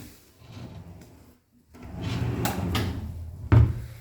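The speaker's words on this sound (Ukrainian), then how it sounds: "Додаткові великі шухляди." Large drawers that slide under a bed roll open and shut, a long rumbling slide followed by a solid thump as one closes, close to the listener and with no voices.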